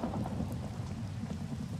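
Steady rain with low thunder rumbles from a video game storm, a dense continuous wash with no voices, even and moderately loud throughout.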